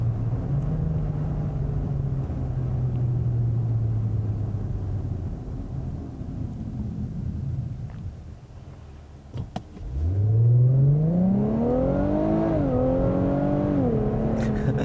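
A 2017 Infiniti Q60 Red Sport engine hums steadily, then after a brief dip surges into a loud rising rev as the car accelerates hard, the pitch climbing through the gears with no talking.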